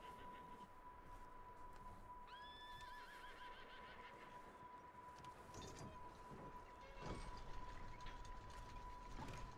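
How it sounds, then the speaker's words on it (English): An upset horse neighs in the Red Dead Redemption 2 video game, giving one quivering whinny over steady background ambience, with faint hoof clops and a continuous tone throughout. "Upset horse."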